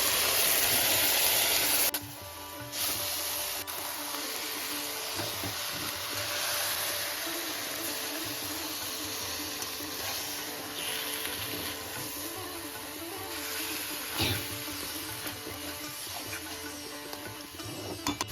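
Kochu greens and soaked raw chickpeas being stirred in a pan over a low gas flame give a steady soft sizzle and hiss with occasional scrapes, loud at first then settling to an even frying crackle.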